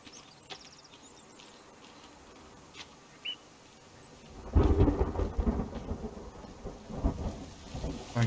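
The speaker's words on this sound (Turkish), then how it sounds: "Güneşli havada yağmur mu yağar ya?" Rain and rolling thunder in the survival video game The Forest: steady rainfall with faint insect-like buzzing, then a loud, close thunder rumble about halfway through that keeps grumbling to the end.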